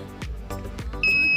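A steady electronic beep from a battery-powered active buzzer switches on near the end, high-pitched and continuous, following a few dull knocks and handling thuds.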